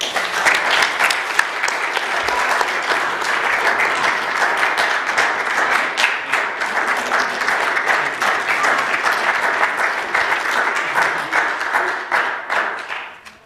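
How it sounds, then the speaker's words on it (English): An audience at a Sunday church service breaks into sustained applause, many hands clapping loudly and steadily for over ten seconds before the sound drops off abruptly at the end. "can't you just let everyone stand up and applaud first"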